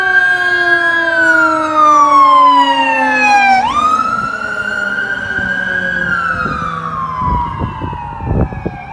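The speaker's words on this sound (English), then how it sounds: "Fire truck." A loud fire engine siren wails, sweeping down and back up in long rising and falling tones, close by on Main Street in Walton and drowning out other noise.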